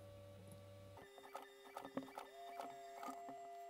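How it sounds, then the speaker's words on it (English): A card printer starts up and prints a Windows test page, with a steady mechanical hum followed by repeated clicks, whirs and feeding rattles, close and fairly loud. "You can hear my printer started up."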